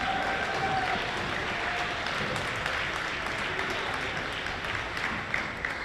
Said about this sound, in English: Can you give one more applause for the team?